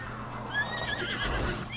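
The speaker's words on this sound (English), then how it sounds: "I'm calling my horse" In Breath of the Wild, a horse answers its rider's call with a whinny: a faint, high neigh over a low in-game background rumble, with no one talking.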